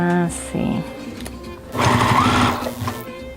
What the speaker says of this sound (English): So you're going to sew that up here and make sure that you catch this in the Velcro.